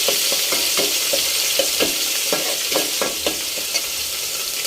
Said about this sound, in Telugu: తర్వాత మసాలా బాగా ఫ్రై చేసుకోవాలండి.